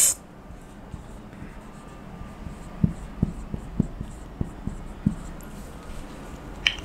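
Marker or chalk tapping and scraping on a board during a physics lesson, a series of soft, separate knocks over a steady background hum.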